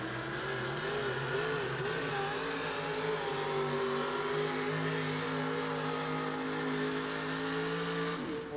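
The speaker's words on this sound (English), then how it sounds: "Donna's sitting behind the wheel waiting for the green flag as they hitch on the sled." A 4WD truck pulling a sled at an indoor arena pull at Kemper Arena, its engine roaring loud and sustained with rising and falling revs as it strains against the load, no voices over it.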